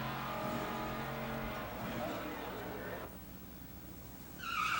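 Muscle cars drag racing, including a Max Wedge 426 in Pure Stock, roar and rev hard, then the engine noise drops away as a commentator talks over the track sound.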